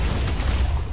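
A skeleton mob in Minecraft with the Shape Shifter Z mod sets off an explosion, heard as a loud, dense, low booming rumble that fills the whole second without a clear break.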